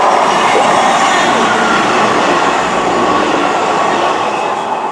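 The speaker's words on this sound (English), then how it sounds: "passing through now is the 13:04 Great Western Railway service to Cardiff Central from Portsmouth Harbour" Class 158 Great Western Railway train passing through a station, a loud close continuous rumble and rush with faint wheel clatter as it runs by.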